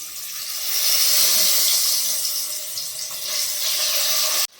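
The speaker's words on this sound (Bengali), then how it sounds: "এবার আলুগুলো এক এক করে দিয়ে দেবো" Potatoes dropped into hot white cooking oil in a wok give a loud, steady, hissing sizzle that holds for about four seconds and then cuts off abruptly.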